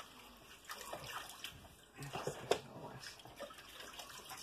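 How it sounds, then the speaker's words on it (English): Hair washed with water inside a caravan: faint running and splashing water with light drips and sloshes, close by and fairly quiet, with soft voices in the background. "This is how we wash our hair in caravan."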